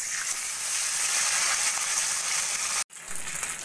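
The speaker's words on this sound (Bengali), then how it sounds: "একইভাবে বাকি মাছগুলোও আমি ভেজে নেব" Pabda fish fry in hot oil in a wok, a steady close crackling sizzle that drops out for an instant near the end and then resumes.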